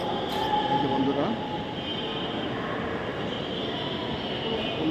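Train at Khulna railway station, a steady broadband rumble of rolling cars that fills the whole stretch at an even level, with a faint wheel squeal near the start.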